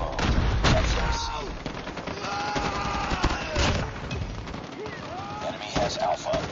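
Rapid automatic gunfire from a Call of Duty multiplayer match, loud dense bursts and single shots crackling nearly nonstop, with game voices and other battle sounds mixed in.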